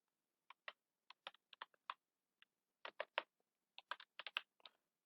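Quiet computer keyboard typing, short bursts of crisp keystrokes in irregular clusters with brief pauses, close and alone with no voices.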